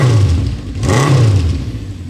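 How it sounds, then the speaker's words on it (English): A 1970 Honda CB750K four-cylinder engine breathing through its stock HM300 exhaust, giving a loud, steady, close low rumble with a brief rev swell in the middle and no talk over it. "The HM300 exhaust is the nicest sounding production four-cylinder exhaust I've ever heard."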